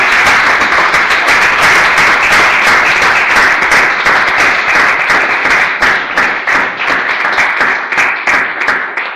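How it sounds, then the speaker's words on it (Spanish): An audience applauds loudly at a Spanish hospital event, dense sustained clapping from many hands that thins toward the end into more distinct individual claps. "Os invito a que aplaudamos con toda"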